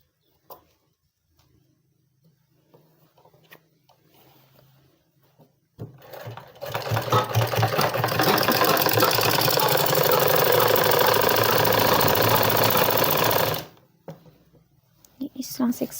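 A sewing machine stitches women's trouser fabric, running in one steady, loud, continuous whir for about eight seconds, with quiet handling noises before and after.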